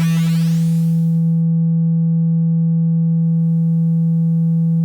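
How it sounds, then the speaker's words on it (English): A steady low pure sine-wave tone run through a bit crusher distortion module in VCV Rack, starting out harshly buzzy and gritty, then settling into a clean continuous hum, loud throughout. "Now I'm going to put it on sine wave"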